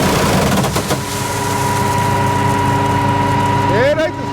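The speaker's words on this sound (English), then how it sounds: "turn the combine on" A corn combine harvester engine running with a steady, loud, droning hum and mechanical vibration throughout, close by, with a brief rising whine near the end and voices faintly underneath.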